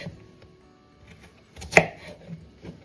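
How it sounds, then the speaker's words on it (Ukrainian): A knife chops washed, peeled radishes into quarters, with one sharp, close cutting strike standing out over soft background handling noise. "Промиту та очищену редиску нарізаємо на 4 частинки і складаємо все у"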